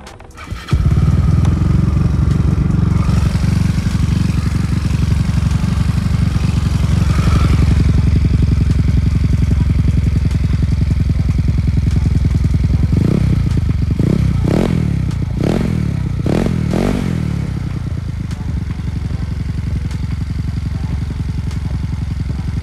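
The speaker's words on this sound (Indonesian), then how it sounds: "sekarang kita bakalan cek sound nih buat knalpot dari si ZRC ini" A Yamaha Mio motorcycle with an aftermarket ZRC exhaust starts and idles with a deep, throaty exhaust rumble, then gets several sharp throttle blips in quick succession before settling back to idle.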